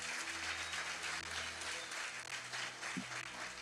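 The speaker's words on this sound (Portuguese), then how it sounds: "Dá um aplauso bem forte, aleluia." Faint church congregation applause during a healing sermon, continuous soft clapping heard from a distance for a few seconds over a low hum.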